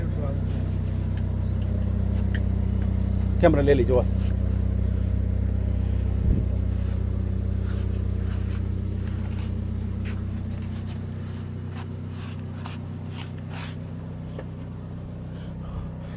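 A vehicle engine idles steadily with a low droning rumble throughout, near and constant, while people talk over it and a few brief clunks sound in the middle.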